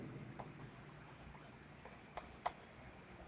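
Marker or chalk writing names on a board, soft scratchy strokes in short irregular bursts with a few sharper taps, faint and close, alongside low speech.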